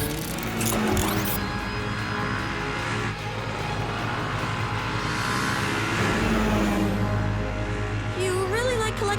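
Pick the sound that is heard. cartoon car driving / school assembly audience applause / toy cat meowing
cartoon car driving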